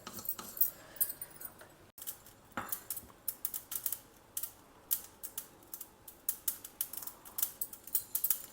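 Black mustard seeds dry roasting in a kadai give off a steady stream of small, sharp ticks and pops, some rattling against the metal, close and fairly quiet.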